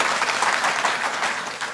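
A brief burst of audience clapping at a Delhi government event, moderately loud and steady, thinning slightly as it ends.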